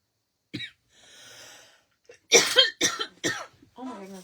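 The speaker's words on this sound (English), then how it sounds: "Sorry, I keep coughing." A woman coughing several times in a sharp cluster, close and fairly loud, after a short breath and quiet pause.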